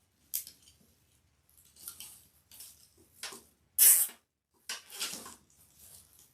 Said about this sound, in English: Just gonna zip tie this in there.